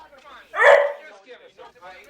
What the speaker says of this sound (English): Oh, you devilish dog.